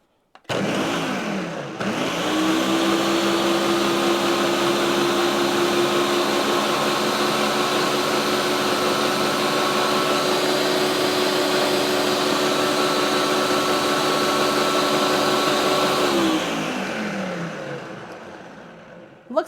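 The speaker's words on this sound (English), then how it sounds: "Now we're going to actually blend this up until it's all combined together before we add the ice into it." Blender mixing frozen salted caramel hot chocolate ingredients before ice goes in, the motor whirring up to a loud steady high-pitched drone for many seconds, then winding down at the end.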